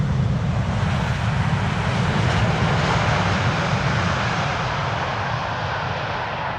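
A KLM airliner landing at Amsterdam Schiphol with idle reverse thrust, giving a loud, continuous broadband engine roar that holds steady and eases off slightly toward the end.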